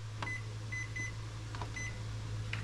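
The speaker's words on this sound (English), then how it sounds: "Set my timer for 20 minutes." Several short electronic beeps from a kitchen timer being set for 20 minutes, spaced irregularly over a steady low appliance hum in a home kitchen where garlic tomatoes are roasting in the oven.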